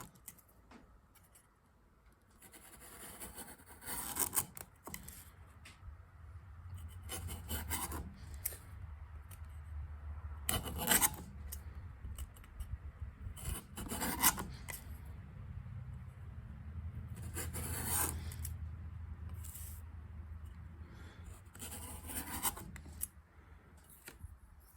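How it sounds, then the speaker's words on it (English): A Kumiko Chef knife blade slices repeatedly through wood, giving rasping, scraping strokes in uneven bursts over a low steady rumble, close and moderately loud with no talking. "the blade itself really had no problem cutting and cutting and keeping on cutting"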